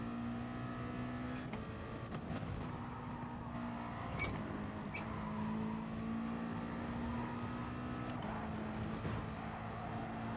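Race car engine in Gran Turismo Sport during an FIA practice race, a steady drone with shifting pitch as the car accelerates, fairly quiet, with a few sharp clicks and no talking.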